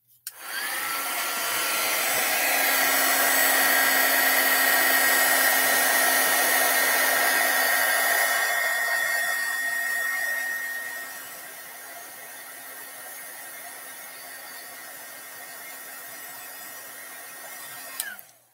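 A handheld heat tool blasting hot air to melt embossing powder on a card runs as a loud steady whirring blower with a high whine, dropping to a lower speed partway through before clicking off.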